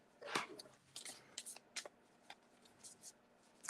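Soft riffling of tarot cards being shuffled, a few quick bursts close to the microphone, quiet and intermittent.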